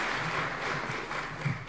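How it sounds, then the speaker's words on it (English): An audience at an international nuclear energy conference in Nairobi claps to welcome a speaker. The applause is a short, steady, fairly distant patter heard at low level. "Let's welcome him with a warm clap."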